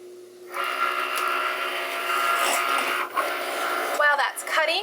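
A Cricut Maker cutting machine slices through white cardstock with a steady motorized whir and faint tonal hum, fairly close, while someone talks over the final second.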